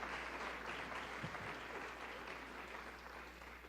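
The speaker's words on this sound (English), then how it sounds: "Come on, give them a big applause" An indoor audience at a university in-service training session applauds steadily, a dense wash of clapping that holds for several seconds and fades slightly toward the end.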